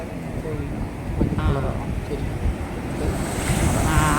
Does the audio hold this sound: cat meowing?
no